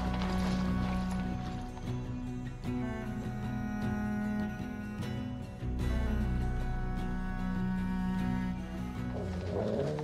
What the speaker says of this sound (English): Get the donkey moving. We need to get off this road.